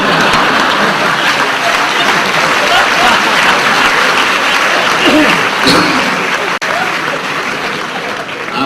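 Loud, sustained audience applause at a religious talk by Maulana Abdul Kareem Farekh. Close, dense clapping fills the whole stretch and fades slightly near the end.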